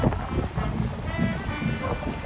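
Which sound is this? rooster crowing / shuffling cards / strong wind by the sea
strong wind by the sea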